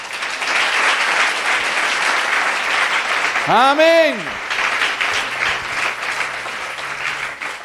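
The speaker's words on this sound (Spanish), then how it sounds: "¿Cuánto le dan un aplauso al Señor?" A church congregation applauds steadily through a sermon, the clapping forming a dense, full wash. A voice shouts briefly over it partway through, and then the applause carries on at an even level.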